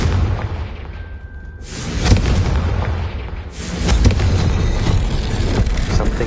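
A Confringo spell explosion in a Hogwarts video game: two heavy booming blasts roll out over a constant rumbling game background, each swelling loudly and then sustaining.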